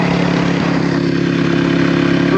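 A Kawasaki KLX300R dirt bike engine runs loud and close in a steady, dense drone, with no voices.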